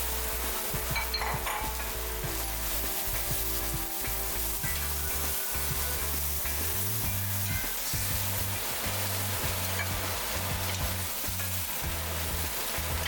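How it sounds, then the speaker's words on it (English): Beef stir fries in a hot pan with a dense, unbroken sizzle and intermittent stirring scrapes, close and steady throughout. "So I'm going to stir fry this meat."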